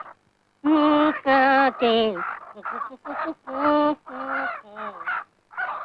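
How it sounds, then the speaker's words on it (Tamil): A chicken clucks and squawks in loud, close, harmonic bursts, several calls in a broken rhythm with short gaps between them. "யார் வீட்டு சொந்த கோழி?"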